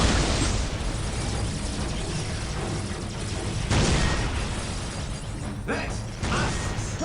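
Missile explosions in a video game make a dense, continuous roar of blasts and rumbling bursts, with a sharper surge partway through and several crackling pops near the end.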